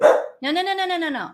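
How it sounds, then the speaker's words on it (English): A rescue dog gives a short sharp bark, then a longer drawn-out whining yelp, close by in a home, with a person speaking briefly over it. "now they're barking because they heard our names."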